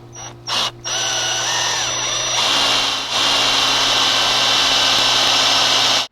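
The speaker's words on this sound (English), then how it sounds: "so we got the hole drilled" A power drill runs steadily, boring a hole through a bonsai branch to prepare a thread graft, a loud continuous whine held for about six seconds after a few brief starts.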